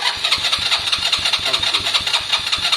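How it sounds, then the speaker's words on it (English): A Lexmoto Valiant motorcycle's electric starter cranks the engine in a rapid, evenly pulsed whirring, loud and close, with no speech over it. "So it should start up on the button. Let's get some choke on"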